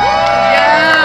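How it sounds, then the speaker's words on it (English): A crowd at Disney Springs cheers loudly for Jordan, with close whoops and shouts that merge into one sustained burst of voices. "one more round of applause for Jordan"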